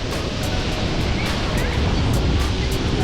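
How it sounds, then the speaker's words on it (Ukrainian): North Sea waves break and wash onto a Dutch beach in a loud, steady roar of surf mixed with gusting wind, close by and continuous throughout. "Чекаємо на хвилю."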